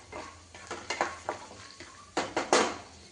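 Peanuts roasting in a pan on a home stove, heard as a run of light clattering knocks and scrapes from stirring, with a few louder clanks near the end and no talk.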